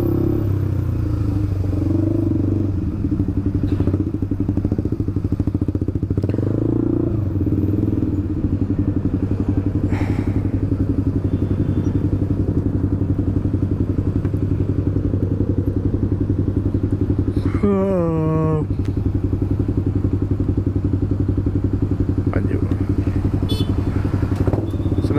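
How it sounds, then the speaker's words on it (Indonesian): A motorcycle fitted with a loud racing exhaust idles with a steady, rough throbbing note that runs close and constant throughout, with a few clatters and thumps along the way. "knalpot pun terdengarnya tuh bising kayak tadi"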